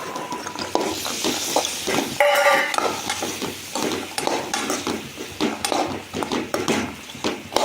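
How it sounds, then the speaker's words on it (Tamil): Boiled chickpeas tipped into a hot pan for Tamil-style sundal and stirred, giving a busy run of scraping, clinking and soft sizzling with a brief louder clatter as they land, no one talking. "அதே மாதிரி இப்போ வேவிச்சு வச்சு சுண்டல் வந்து கொட்டுறோம்."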